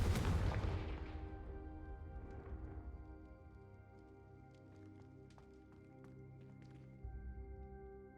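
A fiery Confringo spell blast in the video game Hogwarts Legacy opens with a loud booming burst that decays into a rumbling tail, followed by faint game ambience, light clicks and a low hum.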